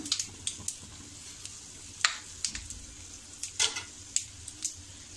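White sesame seeds, cumin and a little poppy seed dry-roasting in a pan, with soft sizzling and scattered crackles and scraping stirs, fairly close and steady with no talking.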